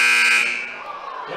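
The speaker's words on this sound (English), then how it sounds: "and there's the buzzer." A loud electronic buzzer sounds at the end of the first half of a girls' high school basketball game, holding for under half a second before fading into gym crowd noise.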